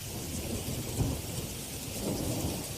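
Thunder rumbles through a heavy winter storm with thunder snow and thunder sleet over Kansas and Missouri, a steady low roar with a couple of swelling booms under continuous precipitation noise.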